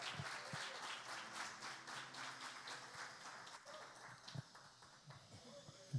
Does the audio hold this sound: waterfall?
no